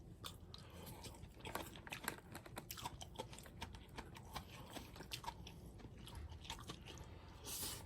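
Someone chews deodeok root from a CU convenience store root lunchbox, producing faint, close crunchy bites and irregular chewing clicks with no talking.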